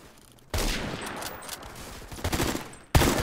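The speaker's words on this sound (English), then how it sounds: "So many bullets going on that my sounds are dying." Heavy gunfire from many weapons rattles through a firefight in the Phantom Forces shooter game, a sustained dense burst that starts abruptly after a quiet moment, fades slightly, then surges again with a sharp shot near the end.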